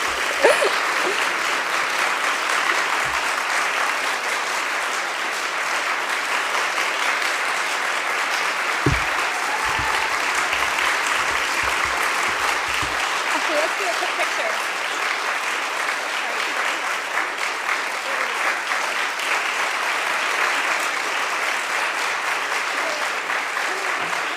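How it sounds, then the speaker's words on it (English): An audience applauds award recipients at a Visionary of the Year ceremony in Redding, California, a sustained, dense clapping that stays loud and even for the whole span. "you can all applaud now if you want to"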